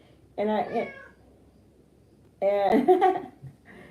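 An outdoor cat meows twice, close and loud. The two drawn-out, tonal meows are separated by about a second and a half of quiet.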